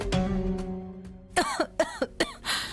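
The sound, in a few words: woman coughing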